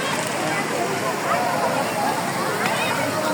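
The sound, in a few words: Sabsaban Falls waterfall, Brooks Point, Palawan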